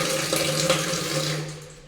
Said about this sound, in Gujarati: આ નળમાં સ્લો પાણી આવે છે